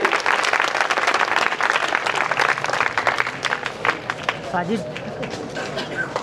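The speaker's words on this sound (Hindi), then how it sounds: "तालियों के साथ आप इस्तकबाल करें।" An audience applauds to welcome someone at a gathering, dense clapping that is loud at first and then thins out, with a voice speaking over the end.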